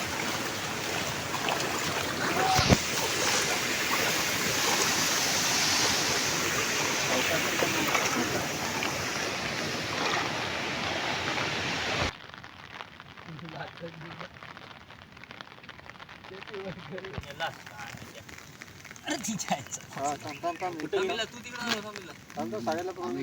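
Heavy monsoon rain falls in a Konkan village as a loud, continuous wash for about half the time, then gives way abruptly to a quieter, thinner patter with faint background sounds.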